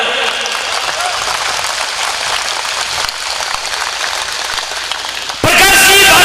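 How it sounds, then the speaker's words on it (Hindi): Loud, sustained crowd applause at an outdoor welcome ceremony, a dense steady clatter of many hands that swells sharply louder in the final second. "ताली बजाएंगे तो बोलूंगा ना।"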